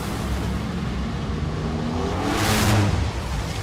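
A Top Fuel dragster launches from the starting line during round-one qualifying at a national drag racing event. A continuous heavy roar swells to a louder burst near the end.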